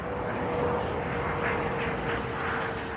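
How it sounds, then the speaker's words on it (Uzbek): A presidential airplane taking off from an international airport bound for Pakistan, a steady loud roar of jet engines sustained for about three seconds with a faint whine running through it and no talk. "samolyot Pokiston Islom Respublikasi tomon jo'nab ketdi"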